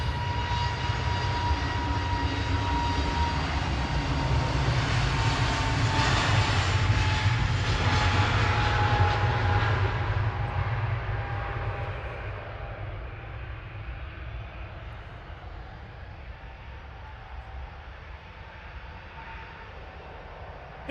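An easyJet passenger jet at Manchester Airport roars loudly for about ten seconds with a broad engine whine, then fades into a softer distant rumble.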